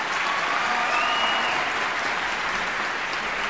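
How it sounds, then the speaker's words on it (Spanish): An audience applauds a contestant at a Linares event, giving a continuous, even wash of clapping from many hands with no pauses and no voices over it. "Aplausos para el participante número uno"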